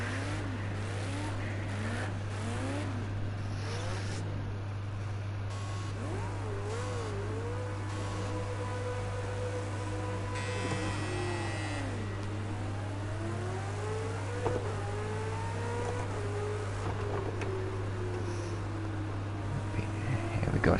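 A race car engine revs continuously in Project Cars 2 at Bathurst, its pitch climbing and dropping sharply through repeated gear changes and corners, loud and close the whole way with a steady low hum beneath.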